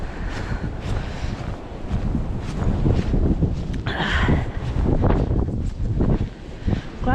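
Blizzard wind in Newfoundland gusting hard against the microphone, a loud continuous roar and buffeting with surging gusts, close and unbroken for the whole stretch.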